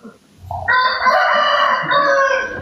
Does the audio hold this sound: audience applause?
no